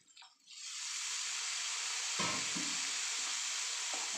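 Fish biryani masala sizzles steadily in a pan as its water cooks off. A loud, continuous frying hiss swells after a quiet start, and a few faint stirring knocks sound underneath.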